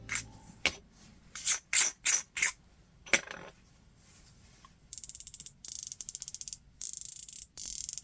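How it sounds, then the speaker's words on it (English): Turret adjustment clicks on a Panzer 1-6x LPVO rifle scope, a run of crisp, loud detents in quick bursts, first a handful of separate clicks, then rapid ratcheting sequences, close up and alone. "Nice loud clicks."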